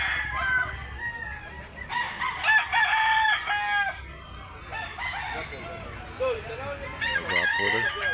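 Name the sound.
rooster crowing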